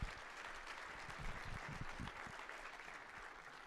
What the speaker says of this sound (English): Go ahead and give these two an applause.